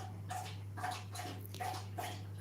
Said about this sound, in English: This is my dog. If you hear him, he's drinking water.